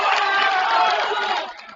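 A South Carolina Gamecock college tennis crowd cheers and roars at a home match during the ITA Kickoff Weekend, a loud, dense burst of shouting voices that tails off quickly.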